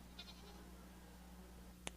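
A goat gives a short, faint bleat, heard briefly and somewhat distant over a steady background hum.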